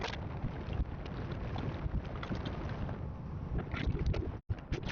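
Strong wind buffets a motorcycle rider's microphone on a road ride, producing a continuous loud roaring rush that dips briefly for a moment near the end.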